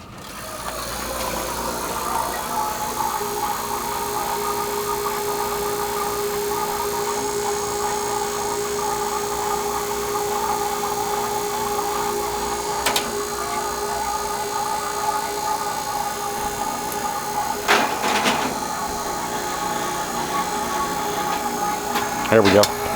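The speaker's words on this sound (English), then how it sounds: "we need to pull this tank into a vacuum, and that's what we're doing with the JB eliminator here" A JB Eliminator vacuum pump pulls a new refrigerant recovery tank into vacuum during HVAC service, giving a steady continuous mechanical hum with a constant tone throughout, with a few brief clanks near the end.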